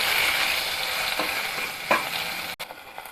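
Shidol chutney, a Bengali fermented-fish dish, being stirred as it fries in oil in a pan, a steady sizzle with a few scraping strokes of the spoon against the pan, close and alone.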